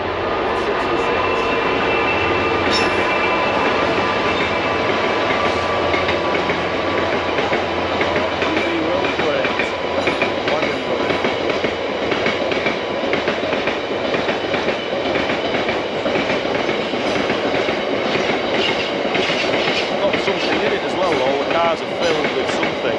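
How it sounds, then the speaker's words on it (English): An in-use Class 66 diesel freight locomotive hauls loaded wagons from Drax power station past at close range, a continuous loud rumble with rhythmic clickety-clack of wheels lasting the whole time, with voices in the background. "That is an in-use class 66 going past where we are."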